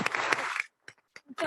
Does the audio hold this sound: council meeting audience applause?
yes